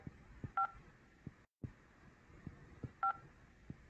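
Phone dialing tones from the video game Hold the Phone: two short dual-tone beeps, about two and a half seconds apart, over quiet clicks and low background thumps.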